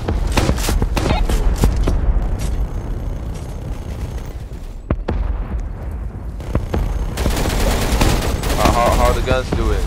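Roblox battle gunfire: dense, loud rapid shooting from several guns with explosive bursts, nearly continuous over ten seconds, with scattered shouting voices mixed in.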